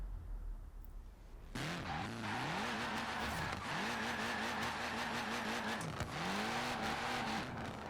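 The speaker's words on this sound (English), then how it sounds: "Every time I turn, it's still spinning its wheel" Front-wheel-drive Ford Puma in Forza Horizon 4 revving hard while cornering, its engine pitch sweeping up and down in repeated surges over a steady scrub of spinning, squealing tyres, loud and close throughout.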